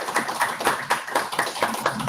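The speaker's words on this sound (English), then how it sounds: "Let's give him a round of applause." A small audience claps for a speaker at a panel conversation about the Chile coup at the Colvin Center, with brief, fairly even claps close by and no talking.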